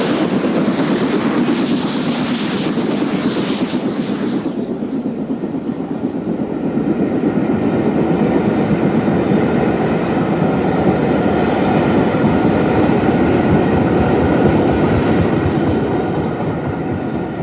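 A preserved LMS Princess steam locomotive hauls a tourist express over a British main line, a loud, close, steady rolling roar of carriages with clattering wheels and a brief hissing burst at the start.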